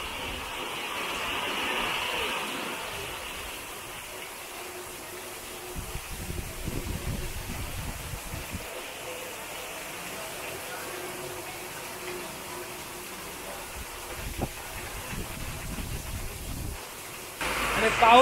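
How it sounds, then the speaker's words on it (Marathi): Heavy monsoon rain falls over the Konkan paddy fields during traditional transplanting, a steady wide hiss of downpour with occasional louder splashes and thumps, fairly quiet overall. "आणि पाऊस बघा कडक आलाय, जोरदार पाऊस आलेला आहे."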